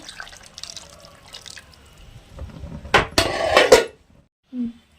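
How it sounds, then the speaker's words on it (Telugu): Tamarind extract is poured from a jar into a simmering fish curry, with splashing and liquid trickling, clinks of pots and utensils, and a brief clunk at the end. "ఇప్పుడు నేను చింతపండు పులుసు వేసుకుంటున్నాను"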